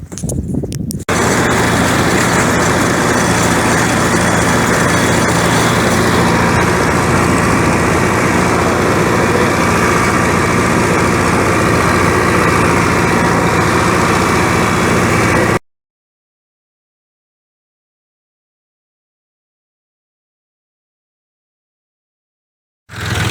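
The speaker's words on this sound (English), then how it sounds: "I'm going to fire up and start mowing." A mower engine runs steadily and loudly for hay mowing, a dense continuous drone close by that cuts off abruptly partway through, leaves silence, then returns briefly at the very end.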